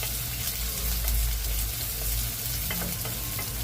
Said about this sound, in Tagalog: since mainit na ang luto ng ating bawang, sabay na natin ang sibuyas